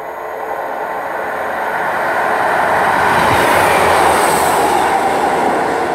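Train running non-stop through Bridgend station at speed, a loud sustained roar of wheels and rushing air that swells and holds steady close by.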